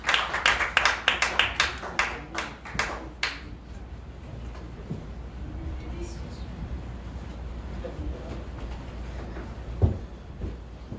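Church congregation at a revival service claps in a loud, brisk burst for about three seconds, then fades into room murmur and light movement sounds.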